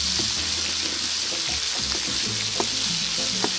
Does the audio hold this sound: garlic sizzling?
yes